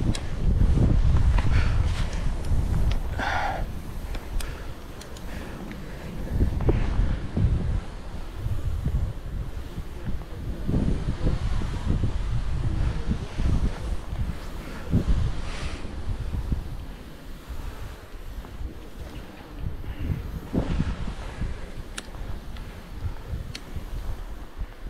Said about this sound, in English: The wind's blowing us back uphill.